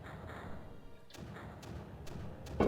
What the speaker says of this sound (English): that many mortars firing makes this kind of loud